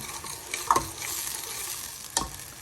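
Aubergine curry gets stirred in a pan on a gas flame, a steady sizzle with two louder scraping knocks of the spoon against the pan.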